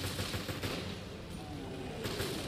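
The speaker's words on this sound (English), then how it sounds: "Stop shooting." Rapid gunfire from Resident Evil: Revelations crackles in a continuous dense stream, moderately loud, with a voice talking over it.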